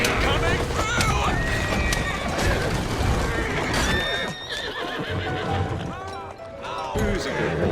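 A horse whinnies and clip-clops with carriage wheels rattling in Assassin's Creed Syndicate street chase gameplay, dense and busy throughout with a voice talking over it.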